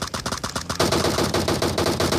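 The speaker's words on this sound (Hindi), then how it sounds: "पीछे से गोली चलने की आवाज़ आती है" Rapid automatic gunfire in the PUBG video game, a fast rhythmic burst of close, sharp shots that runs continuously for a couple of seconds.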